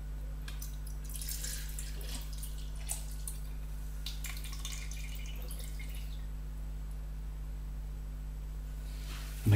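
Hot candle wax pours into a Pringles tube, giving a quiet, trickling liquid sound with occasional drips over a steady low background hum.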